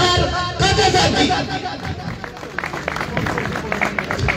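Audience applause at a stage ceremony honoring a master musician: a dense burst of crowd clapping mixed with murmuring voices, loud at first and then settling into a steady patter.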